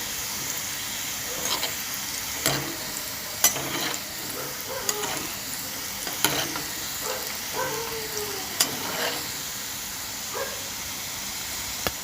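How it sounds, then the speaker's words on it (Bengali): White vegetable oil sizzles steadily as square nimki dough pieces fry, with occasional clinks and scrapes of a utensil stirring in the pan. "এই নিমকি ভাজাগুলো আমি সম্পূর্ণ সাদা তেলে করছি"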